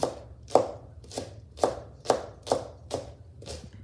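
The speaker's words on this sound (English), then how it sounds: "I'm gonna cut these two together and I'm gonna mix them together" A knife chops green scallion and white onion together on a board, eight or nine evenly spaced, crisp thuds about half a second apart, close and clear.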